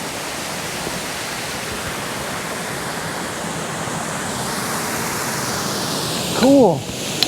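A waterfall and creek on the Falls Creek Trail loop pour out a loud, steady broadband rush close by, with a brief voice breaking in near the end.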